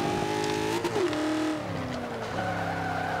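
A 1995 Ford Cobra engine revs hard in the racing game Forza 5, its pitch climbing and dropping through gear shifts, with brief tire squeal. The sound is loud and close and runs steadily throughout.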